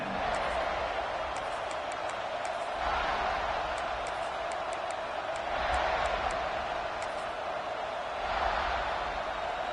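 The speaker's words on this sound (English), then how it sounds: "This crowd ready to make its presence known." An American football stadium crowd roars during a kickoff return, a loud, dense wall of cheering that swells and eases in repeated waves across the stretch.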